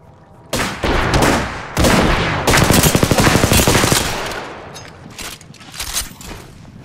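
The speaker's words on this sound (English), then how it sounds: "I'm taking shots." Gunfire in the video game Apex, with loud, close bursts of rapid automatic shots and some single reports that come in dense volleys and then taper off.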